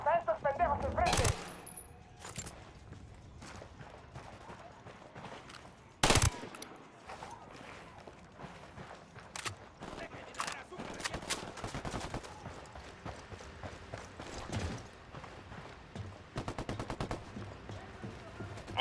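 Gunfire erupts in a Ghost Recon: Wildlands firefight, with sharp loud shots and bursts scattered across the scene over continuous battle noise and intermittent voices.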